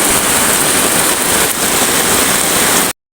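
Heavy rain pours down steadily at a jungle camp during military-style camping, a loud, dense, unbroken hiss filling the space with no voices, then cutting off abruptly near the end.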